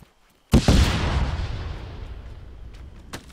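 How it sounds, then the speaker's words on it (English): A frag grenade detonates on an IED in a first-person video game: one sudden, loud, close blast with a deep rumbling tail that slowly fades, and a faint sharp crack near the end. "But, it did blow up the IED."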